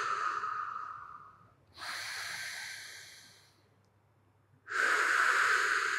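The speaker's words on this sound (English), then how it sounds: "Keep breathing deep into your diaphragm here." Deep diaphragmatic breaths during a jiu-jitsu guard-retention mobility exercise: three long, loud, airy exhalations and inhalations close to the mic, separated by brief pauses.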